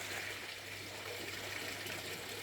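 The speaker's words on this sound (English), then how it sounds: "she's actually making more noise by splashing around in the pool at the moment" A Muscovy duck splashes around in a pool, producing continuous soft watery sloshing and trickling at low volume, steady without distinct individual splashes.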